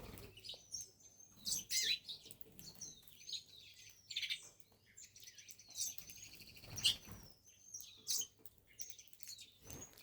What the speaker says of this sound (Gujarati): જો કેટલી બધી ચકલીઓ ઓલરેડી અહીંયા આવેલી છે